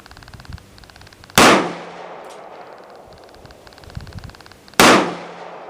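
.44 Magnum handgun gunshots, two loud sharp blasts a few seconds apart, each followed by a ringing decay, outdoors with quiet background between shots.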